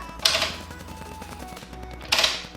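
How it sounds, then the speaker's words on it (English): The tension adjuster flap on the back left of a Herman Miller x Logitech G Embody gaming chair clicks in two sharp, close bursts, with faint ticking between them. "there's a little flap on the back left of the chair that lets you adjust it based on how much resistance you actually want"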